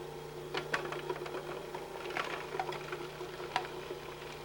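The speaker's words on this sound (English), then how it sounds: "While the machine is running, drop the shallots into the small feed tube." A 1995 Cuisinart food processor with its metal blade whirs steadily while mincing parsley and shallots, with an even motor drone and irregular rattling taps as the pieces hit the blade.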